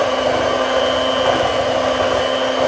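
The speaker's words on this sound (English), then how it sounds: "take your mixer and let's mix all that up" An electric hand mixer beats chocolate birthday cake batter with a steady, loud whirring drone that holds unbroken and close throughout.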